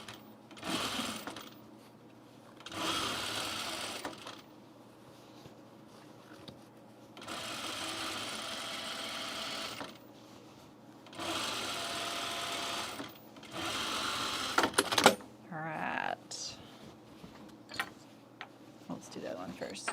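A sewing machine running an easing stitch on a blazer, in several separate bursts of whirring stitching broken by pauses, with handling noises and occasional clicks between runs.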